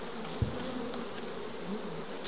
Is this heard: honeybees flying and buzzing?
yes